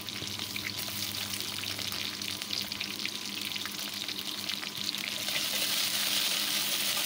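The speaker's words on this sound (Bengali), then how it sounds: "মশলার সঙ্গে চিংড়িটা আমি একটু কষিয়ে নিচ্ছি।" Shrimp frying with ground spice paste in a pan in a village home kitchen, a steady loud sizzle with stirring scrapes running through the whole stretch, no talking.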